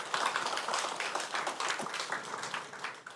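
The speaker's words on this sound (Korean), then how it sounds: "우리 하나님께 영광의 박수 한번 올리도록 하겠습니다" A church congregation claps together, a dense, even applause filling the sanctuary at a steady level for a few seconds, with no voice over it.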